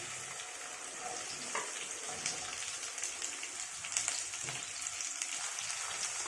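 Sliced okra sizzling in hot oil in a pan, a steady broadband hiss with faint crackles and pops throughout, close and continuous with no talking.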